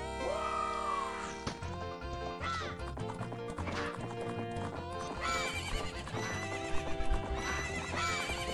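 Horses in the video game Majora's Mask clip-clop at a gallop with repeated loud neighs and whinnies over a busy game soundtrack during a horse race, with occasional slaps.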